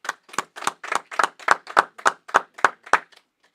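A group claps together in a steady unison rhythm at a Feast of Purim gathering, about a dozen sharp, evenly spaced claps in quick succession, close and loud, then stopping.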